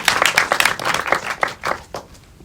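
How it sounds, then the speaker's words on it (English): An audience claps at a USC panel on global entertainment franchises, in a brief, dense burst of applause that fades toward the end. "please give us a round of applause"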